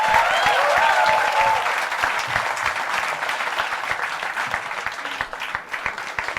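Sustained clapping from a comedy show audience at a live crowdwork set, loud and even at first, then thinning slightly toward the end, with no talk over it.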